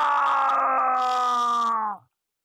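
A man in a Hindi audio drama lets out a loud, sustained anguished scream while under attack. The scream holds steady for about two seconds, then cuts off abruptly into silence.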